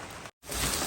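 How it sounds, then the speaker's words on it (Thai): Rain falls steadily in a rural area during the evening, a close, even hiss that cuts out briefly and then returns a little louder. "ตอนนี้เป็นบรรยากาศฝนตกไปก่อน"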